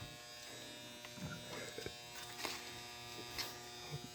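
A commercial garage door opener motor in an abandoned building runs with a faint, steady electric buzz and hum, broken by light clicks and rattles.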